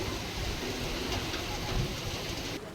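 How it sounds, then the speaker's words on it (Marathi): Heavy monsoon rain in Vasai-Virar, Maharashtra, pours down in a dense, continuous hiss that cuts off abruptly near the end. "दुपारनंतर पुन्हा एकदा मुसळधार पाऊस झालाय"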